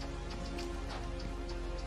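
Steady heavy rain in a video game, a dense continuous hiss of drops on surfaces with faint music or game tones underneath, filling the whole short stretch without talk.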